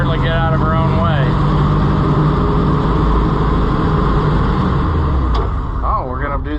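Chrysler 318 V-8 engine in an Oliver 7300 combine running rough, a loud, steady low rumble throughout with a brief sharp rise near the end.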